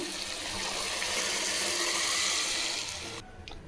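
Steady rushing pour of water, cooked with spices, cabbage and lentils, into a pot, loud and continuous for a few seconds before cutting off abruptly.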